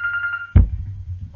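A telephone rings with a steady electronic warble for about half a second before a dull thump cuts it off, close and fairly loud, leaving a low hum behind.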